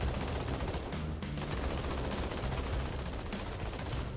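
Rapid gunfire in Halo 2 Anniversary rattles steadily, a dense continuous stream of shots and bursts at moderate loudness with no gaps.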